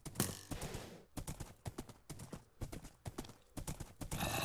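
Horse hooves clip-clop in a video game in quick, loud, uneven bursts of gait with brief pauses between them, close up and nearly free of talk.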